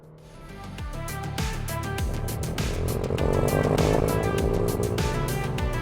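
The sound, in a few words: Kia Stinger launch control acceleration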